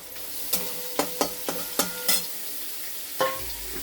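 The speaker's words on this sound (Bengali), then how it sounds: "একটু ঢাকা দিয়ে দিয়ে ভাজতে হবে" Banana flower curry with grated coconut fries in a pan, a spatula scraping and stirring in about eight sharp, spaced strokes over a soft, steady sizzle, close and fairly quiet with no talking.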